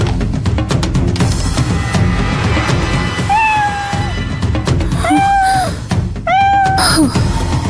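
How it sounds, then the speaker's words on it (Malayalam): A cat gives several clear, loud meows in short bursts near the middle and end, over a busy indoor background with some rustling, in a domestic TV serial scene. "പൂച്ചയായിരുന്നു."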